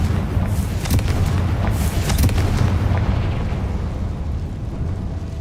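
The Confringo blasting spell in the game Hogwarts Legacy detonates with a heavy, booming explosion, followed by a couple of crackling bursts and a long rumbling decay with debris noise, close and loud.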